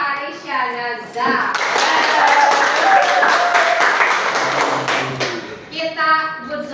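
Junior high students in a classroom break into a loud round of clapping lasting several seconds, with talk just before and after the applause.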